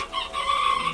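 Chickens clucking and calling nearby, a short burst of tonal bird voices over faint background hum.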